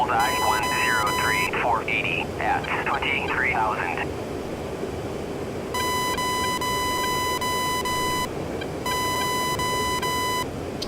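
Rapid electronic radar warning beeps from friendly SAM sites sound in bursts, pausing between runs, over a steady F-15C jet engine drone in a flight simulator game, with a voice talking briefly early on.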